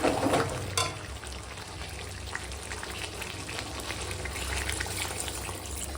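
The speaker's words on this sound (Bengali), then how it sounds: "আর এখন দিয়ে দেবো জল" Water poured into a pan of chicken and potato curry cooking with yogurt and spices, a brief splash at the start giving way to steady sizzling and bubbling that carries on alone.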